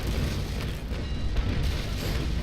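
Broadside of eight ship cannons firing in the naval video game Naval Action, a dense, continuous rumble of overlapping booms with a sharp burst near the middle, loud throughout.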